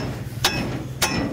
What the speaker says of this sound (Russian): Сейчас отремонтируем путем молотка, да?